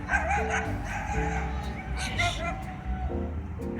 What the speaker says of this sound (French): c'est toujours les tout petits chiens qui gueulent le plus. Faut voir, c'est un tout petit teckel.